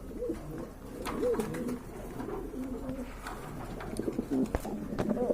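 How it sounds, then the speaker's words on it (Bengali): A pair of pigeons coo repeatedly nearby in soft, throaty rolling calls, with a few sharp clicks and rustles in the background. "এখানে কিন্তু এক জোড়া মুরাসেল কবুতর রয়েছে"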